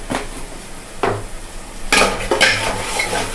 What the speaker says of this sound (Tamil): ஸோ ஒன்று ஒன்றா போட்டு கிண்டிக்கிட்டே இருக்கணும்